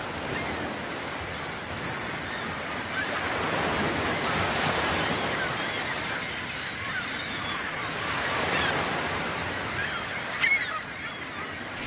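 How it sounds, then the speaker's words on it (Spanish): Seagulls call over ocean waves at Finisterre on the Galician coast, steady surf washing in swells beneath a few sharp, distant gull cries near the end. "El revuelo de las gaviotas avisa a los peregrinos de la proximidad de su meta."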